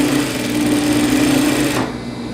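Close, loud sewing machine stitching a double-faced coat, running at an even pace with a steady mechanical hum and rapid needle chatter, then slowing as it stops near the end.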